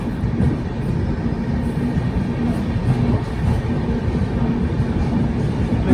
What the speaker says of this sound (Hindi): मुरादाबाद जंक्शन पर अराइविंग करती हुई 14119 काठगोदाम देहरादून एक्सप्रेस